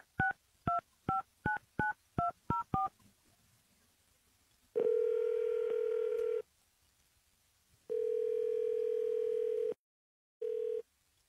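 A telephone call is being placed: a rapid run of about eight touch-tone dialing beeps, then long steady ringback tones separated by pauses, clear and close with no talk.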